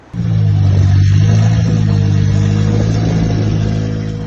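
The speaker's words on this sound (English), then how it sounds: "I remember starting a Honda Jazz here once and it sounded like a Harley Davidson." A Honda Jazz with its catalytic converter stolen starts and idles loudly, a deep, steady rumbling drone with strong low harmonics like a motorcycle, close and alone, holding constant after an abrupt start.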